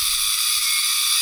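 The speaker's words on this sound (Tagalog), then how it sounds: "Sikada." Cicadas buzzing in a forest around a moto-camping site in Real, Quezon: a loud, continuous high-pitched electric drone that fills the air without pause, steady and close, with no talking.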